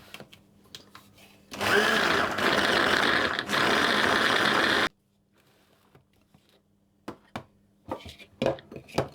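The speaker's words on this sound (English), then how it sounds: "I'm going to process that until it resembles fine breadcrumbs." A food processor blitzes tart pastry with butter into fine crumbs, a loud, close, steady whirring chop lasting about three seconds before stopping, followed by quieter clicks and clatter.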